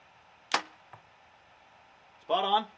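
A crisp Mathews compound bow release snaps, then a lighter thump of arrow impact follows, over a quiet hum of an idling truck; a voice starts speaking near the end.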